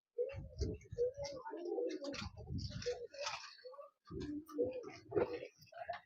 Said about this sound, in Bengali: দর্শক বন্ধুরা দেখুন আরো এক পেয়ার সুন্দর পায়রা